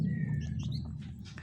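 A white-rumped shama (murai batu) gives short, bright chirps and whistled notes, close and clear, over a low steady background hum.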